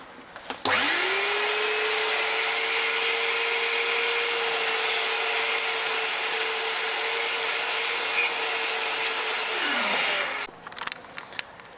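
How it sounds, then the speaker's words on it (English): A shop vacuum runs for about ten seconds inside a wooden archery arrow box under construction, a steady loud whine that spins up sharply, holds with hissing suction and rubbing noises, then winds down, followed by a few light knocks. "Start with a quick vacuum."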